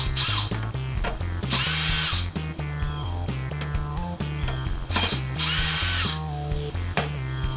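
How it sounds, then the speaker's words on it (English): Screw gun driving screws into a polycarbonate bending brake, whining steadily with rising pitch in repeated pulses, loud and close, with ratcheting clatter between runs and no voices. "I'm going to get these really close with the screw gun just to save time."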